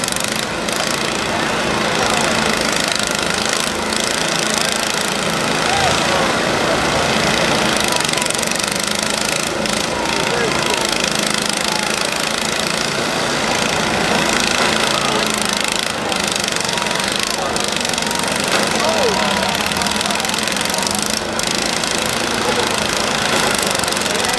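Tractor engines roar continuously at a tractor demolition derby in Portage County, Ohio, a dense, loud mechanical drone with rough knocking texture that persists throughout, with crowd or announcer noise faintly mixed in.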